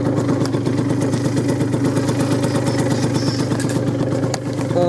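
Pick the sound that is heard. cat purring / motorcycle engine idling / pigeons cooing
motorcycle engine idling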